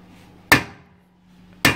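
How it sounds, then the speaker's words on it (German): A large hammer strikes twice, about a second apart, to knock a drive shaft out of a BMW E46/E36 rear axle, each blow a sharp, loud metallic crack ringing briefly, with quiet between. "mit einem großen Hammer die Antriebswelle nach hinten rausgeschlagen werden"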